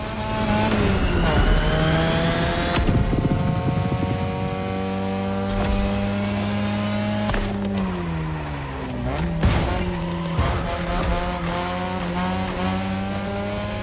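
A third-generation 2002 Mazda RX-7 with a rotary engine in The Crew Motorfest revs and shifts loudly, with rising and falling engine tones and bursts of tire squeal, sustained up close throughout.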